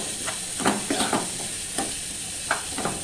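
Coriander powder being stirred into a sambar of red amaranth greens in a pan, a soft sizzle beneath several distinct scraping strokes of a spoon, close and fairly quiet.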